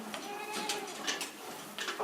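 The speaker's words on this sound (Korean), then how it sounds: "애지중지 키운 염소는 신선한 염소 젖을 제공해준다." Goats bleating on a high mountain goat farm, several short wavering calls scattered across a couple of seconds at moderate distance.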